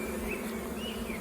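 A honey bee colony being returned to its hive at a zoo apiary, giving a steady, dense buzzing hum that holds evenly, close and continuous.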